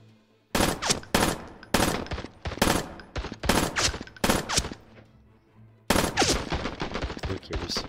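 Gunfire in the video game Wars & Roses, loud sharp bursts of rapid shots in several volleys separated by short pauses, the last burst running longer.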